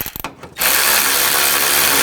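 A ratchet wrench tightens the mounting bolt on a replacement AC condenser for a 2004-2012 Chevrolet Colorado 3.7L. A few quick clicks come first, then a loud, continuous rapid ratcheting whir close by.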